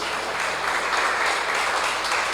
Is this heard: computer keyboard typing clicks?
no